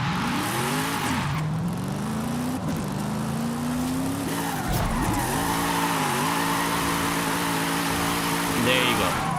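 A drifting car in the video game Forza Horizon 5 holds a long slide with a steady engine drone and squealing tires, the pitch rising and dipping through the bend while someone talks over it.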